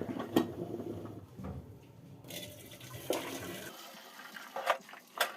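Water pours off a pot of cooked rice as the starch is drained, a splashing, gurgling rush that comes in uneven surges, close and fairly quiet, with no talk.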